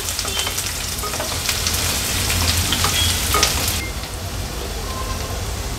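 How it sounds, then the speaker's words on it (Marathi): Finely chopped onion fries in oil for a sea crab curry, a dense, steady sizzle with a few stirring taps that eases slightly toward the end. "कांदा छान मऊ होईपर्यंत शिजवून घ्यायचा आहे आपल्याला।"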